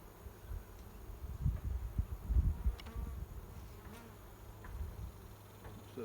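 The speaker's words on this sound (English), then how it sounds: "I said, these bees are working." Bees buzz steadily around a pair of hive boxes, one holding feral bees and one holding kept bees, a close, dense hum that swells and eases with low rustling handling noise and no talking.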